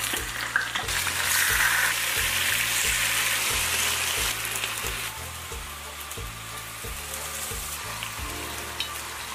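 Marinated grass carp sizzles loudly in hot oil with ginger, garlic and dried chilies in a big wok in a rural kitchen, a dense steady crackle with occasional bursts and scraping stirs.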